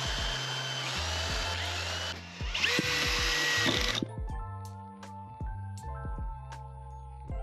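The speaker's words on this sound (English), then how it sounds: "now I just gotta pocket hole them" Power drill boring pocket holes in wooden support pieces for a van bed frame, close and loud, with repeated whirring bursts that rise and stop in short runs, plus a few clicks and knocks between.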